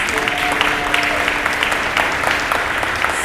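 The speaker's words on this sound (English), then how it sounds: "let's give them a round of applause" Lunch guests applaud the caterers at a commemorative luncheon with a brief, steady burst of many hands clapping at close range, plus a faint murmur of voices.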